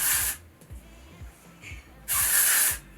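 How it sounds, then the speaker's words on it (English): Two short pressurized bursts of hair product spray, the second longer, with quiet handling sounds between them, close up. "So I just kind of spray this all over and then just like work it into the hair."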